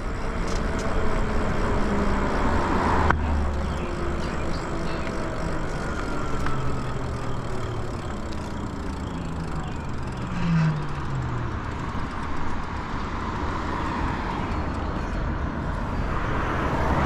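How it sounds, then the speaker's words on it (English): Heavy street traffic, with several cars and larger vehicles rushing past nearby one after another, producing a continuous loud rumble with rising and falling engine and tire whooshes. "Lots of cars coming"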